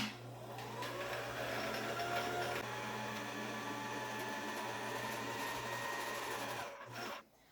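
A household sewing machine winds thread onto a bobbin with a steady, continuous motor whir held at an even level for about seven seconds before stopping abruptly.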